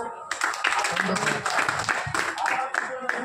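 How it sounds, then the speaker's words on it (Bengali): Applause from an audience at an RCM group meeting, a short burst of dense clapping heard under a speaker's voice that continues throughout. "তা আপনার নিজের জন্য একটা হাততালি দিন"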